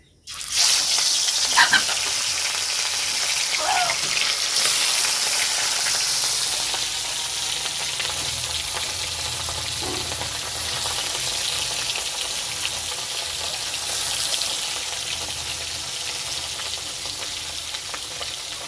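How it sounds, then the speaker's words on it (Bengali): Hot oil crackles and sizzles loudly as rohu fish pieces hit the pan, then settles into a steady frying hiss with occasional pops. "মাছগুলো লাল লাল করে ভেজে নেব"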